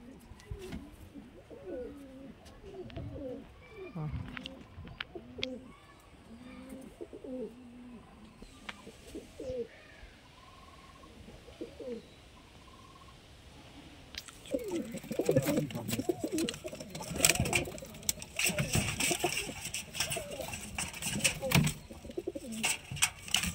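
Pakistani golden pigeons coo repeatedly in a loft, soft rhythmic throaty calls up close, later mixed with rustling, wing flutters and people talking.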